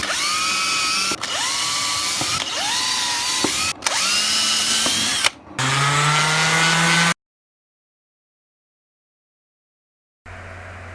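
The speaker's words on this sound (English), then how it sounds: "I'm drilling further down to deal with the ductwork." A power drill boring into wood for a shelf, several short bursts with pitch climbing as the motor spins up, then a longer run, silence, and a brief restart.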